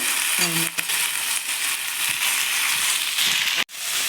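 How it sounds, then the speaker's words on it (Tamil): Continuous loud sizzling and crackling of curry leaves frying in hot oil, close up, with a few clinks and a sharp knock near the end. "அப்படியே இப்போ தாளிக்கும் போது அப்படியே கருவேப்பிலை போட்டு நல்லா வதக்கிக்கலாம்"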